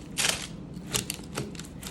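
A trusty kitchen knife saws through a block of soft dinner rolls baked as crockpot focaccia, giving several close, crisp scraping bursts in an irregular rhythm, with no talking.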